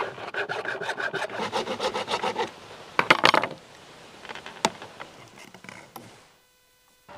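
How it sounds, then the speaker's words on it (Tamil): A hand saw cutting 1.5-inch PVC pipe makes quick, rhythmic rasping back-and-forth strokes, loud and close. A few knocks and scrapes follow before the sound fades to near silence. "இவ்வளோ லென்த் இதே லெவலில் அப்படியே கட் பண்ணிக்கலாம்."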